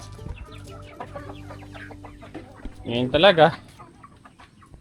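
A chicken clucks loudly and briefly near the end, close by, after a stretch of quiet talking and background chatter.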